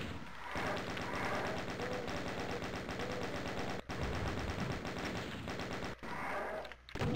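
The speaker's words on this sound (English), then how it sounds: "Now they start shooting each other." Monsters trading gunfire in the video game Final Doom: rapid, continuous machine-gun-like bursts and shots that fill the clip at a steady, dense rhythm, with only brief pauses.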